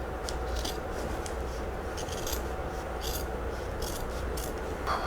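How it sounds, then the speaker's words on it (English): Scissors trim fabric and batting in soft, close snips, several quick cuts spaced irregularly over a faint steady background hum. "I'm just going to trim some of that off, and that will help the binding fold over easily"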